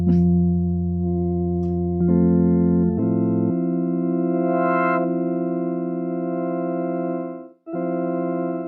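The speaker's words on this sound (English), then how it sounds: "This was my go-to organ sound" Sustained microKORG synthesizer organ chords ring out, shifting between a few held notes with a steady tone and a brief dip before the last chord.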